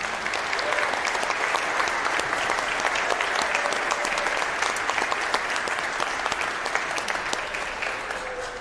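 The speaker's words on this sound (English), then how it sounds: "We give her a round of applause." Sustained applause from a church congregation at the close of a traditional Sunday worship service, dense steady clapping lasting throughout at a constant level before fading slightly at the end.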